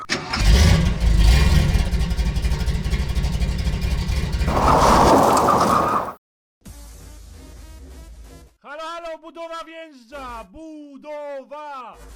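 A car engine cranks and catches, then revs loudly for several seconds and cuts off abruptly, followed by quieter talking.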